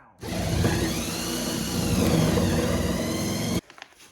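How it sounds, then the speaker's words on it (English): Power saw cutting through the thin aluminum roof of a bus, a loud, steady high-pitched whine with harsh grinding that starts abruptly and stops suddenly after about three seconds. "let's try changing out the blade. See if we have a better cut."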